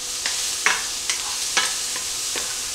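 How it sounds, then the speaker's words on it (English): Chopped onions sauté in a pan for a hamburger and potato cheesy casserole, a constant sizzle beneath a few soft scrapes and taps of the spatula, close and steady, with no voices. "It smells so delicious when you're sauteing onion."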